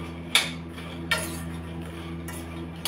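A spoon clanks sharply against a pan as food is stirred and roasted over a low flame. Three distinct metallic scrapes and knocks come at irregular intervals over a faint steady kitchen hum.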